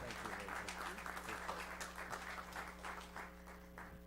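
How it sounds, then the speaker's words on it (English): Faint, distant applause from the audience at a North Augusta, South Carolina city meeting, a soft patter of clapping over a steady electrical hum. "Let's give a round of applause."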